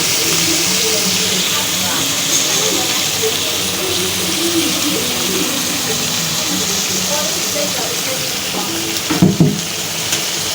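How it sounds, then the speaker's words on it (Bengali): Jackfruit seeds, potato and pui shak stems sautéing in a pan with cooked-down spices, a steady broad sizzle with stirring scrapes throughout, and a brief louder clatter near the end. "এখন আমি কাঁঠালের বিচি আলু আর পুঁশাকের ডাটা এটা দিয়ে কষিয়ে নিব"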